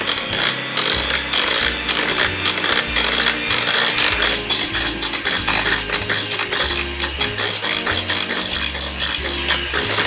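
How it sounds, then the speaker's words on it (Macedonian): An electric hand mixer whirs loudly and steadily while beating cheesecake batter made with pumpkin and eggs, its pitch wobbling as the beaters move through the bowl. No one speaks over it. "И се убаво ќе измешаме со миксер."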